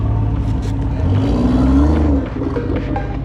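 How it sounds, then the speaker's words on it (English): A BMW G80 engine revs at a gathering of fast BMWs in Africa. It gives a loud, close, continuous rumbling roar that swells in the middle and then drops back to a lower drone. "I think it comes to a 1 of 1 in regards to the sound of these engines or that these engines produce."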